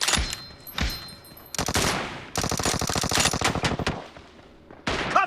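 Gunfire in a shooting video game pitting an M24 sniper rifle against an AR: rapid automatic bursts and sharp single shots, loud and close, with brief gaps between volleys.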